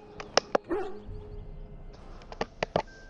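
A Mabari war dog in the Dragon Age: Origins video game barks several times, a couple of sharp barks early and a quick cluster near the end, with a whine and low game ambience between them.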